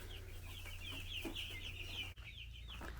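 Chickens clucking softly inside a coop, short scattered calls over a steady low hum, fairly faint with no talking.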